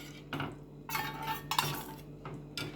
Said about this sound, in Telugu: ఇప్పుడు మా మమ్మీ వేస్తుంటే నేను కలుపుతూ ఉన్నాను.